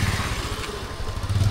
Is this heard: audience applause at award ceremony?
no